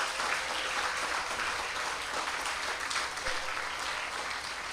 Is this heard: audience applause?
yes